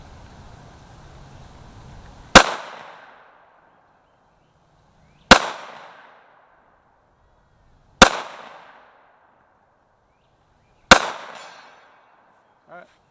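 Four sharp pistol shots from a Taurus G3 fired at a 100-yard target outdoors, loud and evenly spaced about three seconds apart, each with a short decaying tail, with faint low background rumble before the first.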